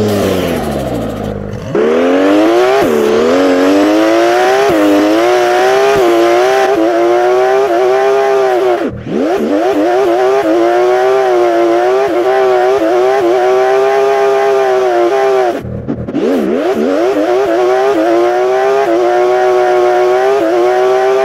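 A car engine in the Roblox game Vehicle Legends drones loudly and steadily, rising and falling in pitch as it accelerates and shifts, with brief dips around two gear changes.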